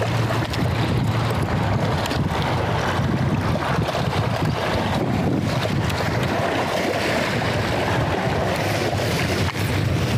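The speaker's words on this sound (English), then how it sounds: "I mean, trying to fight this wind." Strong wind buffets the microphone in a constant roar while fishing outdoors, with gusty rumbling throughout and a faint wash like water in the background.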